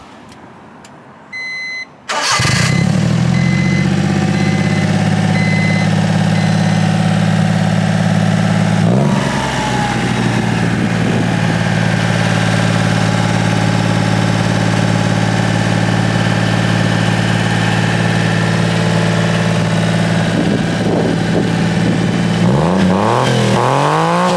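A Honda Acty kei truck with a Giga N1 exhaust cranks and starts, then settles into a loud, steady idle with a brief rev near the middle and a louder rev toward the end. No one speaks.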